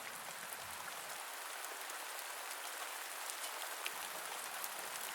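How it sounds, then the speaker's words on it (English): Steady rain falls outside, pattering and tapping against a window in a dense, even hiss that continues without pause at a moderate, soft level. "It's raining outside"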